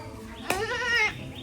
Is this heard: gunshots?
no